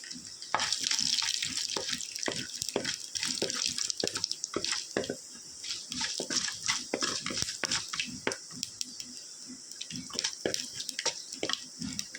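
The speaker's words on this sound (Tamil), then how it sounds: "கடுகு உளுந்தம்பருப்பு நல்லா பொரிஞ்சிருச்சு" Mustard seeds and urad dal splutter and crackle in hot oil in a clay pot, a dense run of sharp pops and sizzling heard close up throughout, with no talk.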